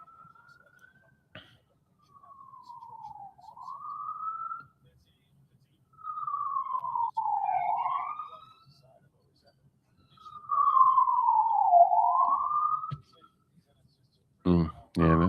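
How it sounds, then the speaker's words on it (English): A distant ambulance siren wails in three slow falling-and-rising sweeps, faint and thin against a quiet background. "that's a ambulance."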